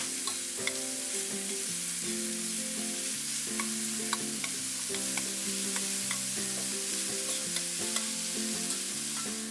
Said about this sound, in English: When my shrimp's cooking